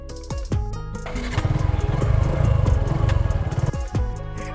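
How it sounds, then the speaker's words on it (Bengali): A new motorcycle is kicked over several times with short coughing turns before the engine catches and settles into a loud, close, throbbing idle. No one speaks. "ভাইয়ের বাইকটা প্রথম আমি চালাচ্ছি"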